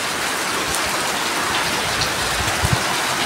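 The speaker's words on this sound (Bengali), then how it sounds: "দেখেন বৃষ্টিটি কেমন হয়ে গেছে।" Heavy rain pours down steadily over an open playing field, a dense, even hiss of drops with occasional louder splashes close by, and no voices.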